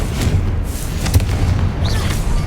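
Confringo explosion spells cast in Hogwarts Legacy on hard mode: dull booming blasts with a low thud near the middle, set in a dense, continuous rumble of battle noise.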